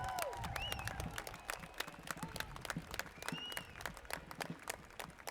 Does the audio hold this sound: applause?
yes